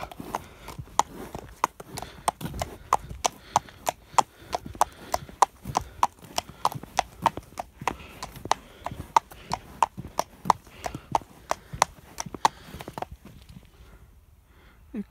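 Horse hooves clip-clop in a steady walking rhythm while hacking out past donkey fields, close and fairly loud, with brief talk from the rider over the hoofbeats before it fades out near the end.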